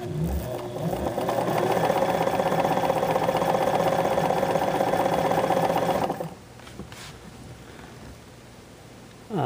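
A vintage 1958 Kenmore Model 117.841 sewing machine motor runs with a steady mechanical whirr and a rapid rhythmic clatter for about six seconds, then stops and leaves only a faint hum.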